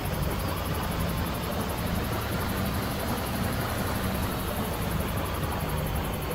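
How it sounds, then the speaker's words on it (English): A helicopter from the video game Far Cry holds a steady, broad rotor and engine roar at constant loudness, with a fast high whine pulsing over the noise and no talking. "I guess we have to face the helicopter then"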